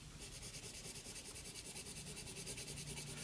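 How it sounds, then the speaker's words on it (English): The side of a pencil shades across paper in steady, continuous soft rubbing strokes, faint and close, with no talking. "I'm using the side of my pencil"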